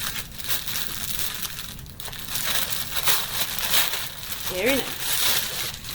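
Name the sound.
unwrapping a canvas zip bag from crinkly packaging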